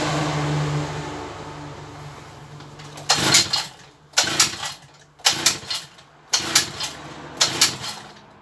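Small petrol garden power tool engine being restarted after carburettor work: after a stretch of low idle-like rumble, five short bursts of engine noise come in roughly one-second pulls, loud and close, with no talk.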